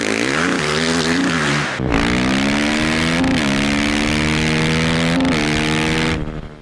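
KTM 450 EXC dirt bike engine from the 2000s, revving loud and close with rising and falling pitch and brief drops between pulls, fading out at the end.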